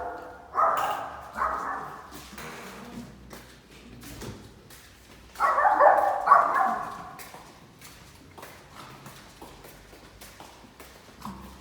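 A dog barks a few times in short bursts at mid distance on a building's 7th floor, with quiet gaps and faint room noise between the barks.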